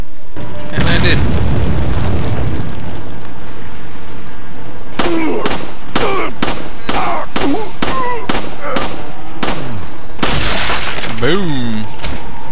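A loud, booming explosion in Resident Evil 4 opens, followed by a run of sharp, evenly spaced impacts or shots, with a voice talking in between.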